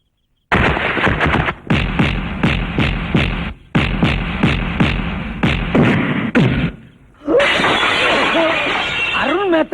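Glass shatters and crashes repeatedly in a Tamil action film fight scene, loud bursts of breaking and smashing in rapid succession, followed by dialogue.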